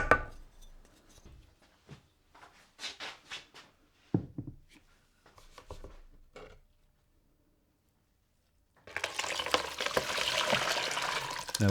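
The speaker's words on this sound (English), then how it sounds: "then we can add the rest of the water." A few clinks and taps, then a brief pause before water pours steadily into a container for the last few seconds, while making homemade corned beef hash.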